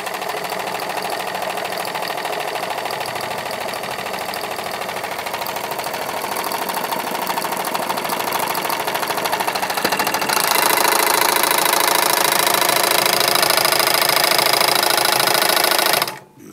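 A carpet serging machine binds a rug edge with multicolour serging yarn, a loud, continuous rapid mechanical clatter running close for the whole stretch, growing slightly louder midway before stopping abruptly.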